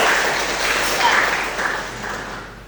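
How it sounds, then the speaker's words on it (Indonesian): An indoor audience claps steadily for a student after a university lecture presentation, a dense wash of applause that is close and fairly loud, slowly fading over a few seconds. "Beri aplaus untuk Opi."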